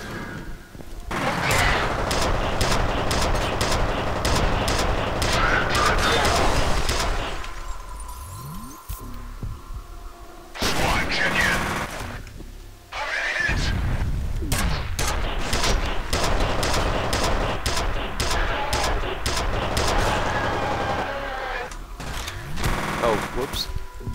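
Rapid bursts of automatic gunfire from the first-person shooter game F.E.A.R., dense and loud with short gaps between volleys, with a voice speaking at times under the shots.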